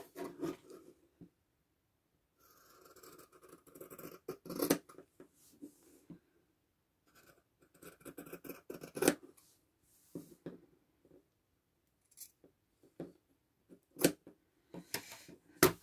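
Scissors snip through patchwork fabric for a hand-pieced Dear Jane quilt block, giving soft, close crisp cuts and rustles in short irregular bursts separated by quiet pauses.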